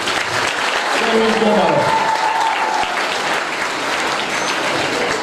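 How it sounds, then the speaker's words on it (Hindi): Audience applauding at a girls' school event, a broad steady wash of clapping filling the room for several seconds while a voice speaks over the start of it. "ये मेरे बच्चों के लिए जोरदार ताली"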